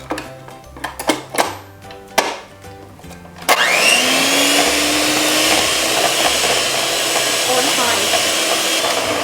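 Electric mixer whirring on high through crepe batter for meat crepes, a loud continuous drone that kicks in abruptly after a few scattered clinks and knocks and holds steady to the end.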